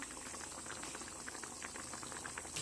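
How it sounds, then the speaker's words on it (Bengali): A pot of chicken curry gravy bubbles at a steady boil after water is added, with a continuous close, moderately quiet gurgle and no talking. "ঝোলে জল দিয়ে দিলাম।"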